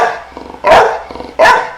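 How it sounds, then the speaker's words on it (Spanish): A dog barks twice, loud and close, each sharp bark preceded by a low rumbling growl. "ya se había tardado la verdad en ladrar"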